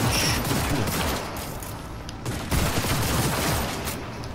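Rapid bursts of pistol fire in Cyberpunk 2077 crackle in quick succession over a dense, noisy game background, loud and close, with no talk.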